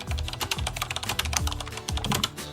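Fast, close typing on a computer keyboard as a prompt is entered, a dense irregular patter of key clicks with no voice over it.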